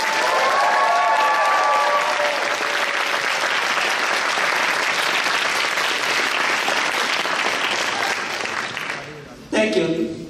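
Loud, sustained audience applause fills a concert hall at the intermission of a performance, dense clapping that holds steady for several seconds and then fades, cut off by a brief voice.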